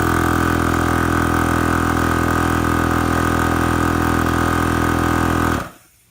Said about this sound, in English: that was the compressor running by itself without the car running